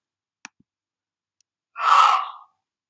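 Male maned wolf giving a single loud, harsh bark lasting well under a second, near and clear, preceded by a couple of faint clicks and otherwise silence.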